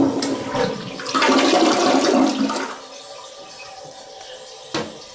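Hotel bathroom toilet flushing nearby, a loud rushing swirl of water for a couple of seconds, then a quieter refill trickle with a brief clunk near the end.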